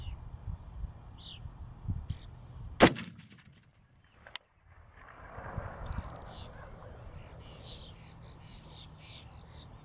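A single sharp rifle shot from an Aero Precision M5-E1 in 6.5 Creedmoor cracks loudly outdoors while shooting rock chucks, ringing briefly over steady birdsong and a low rumble of wind.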